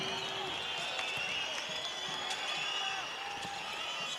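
Basketball arena crowd at a Uruguay versus USA FIBA World Cup qualifier, a steady roar of cheering and noise that holds at a constant level, with a commentator talking over it.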